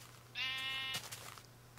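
A sheep in the Minecraft video game gives one short, clear bleat, a buzzy wavering cry standing alone over quiet background hum.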